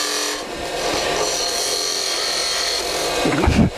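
A skew chisel cuts a cove into spinning wood on a lathe, giving a steady, close, dry scraping hiss with no pause, then a brief louder grinding swell toward the end.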